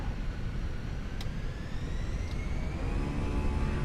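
Jet engines spooling up for takeoff in Microsoft Flight Simulator 2024, a steady broadband roar with rising whine tones climbing gradually, continuous and fairly loud with no talk.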